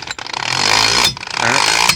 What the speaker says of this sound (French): Je place sur mon boulon, je mets en position de vissage et j'appuie.